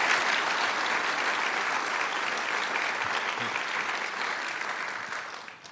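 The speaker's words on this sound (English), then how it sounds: "So let's have a round of applause for everyone that stood and was recognized." Sustained audience applause at a sheriff's oath of office ceremony, a broad even wash of clapping from many people that holds steady and then begins to fade at the end.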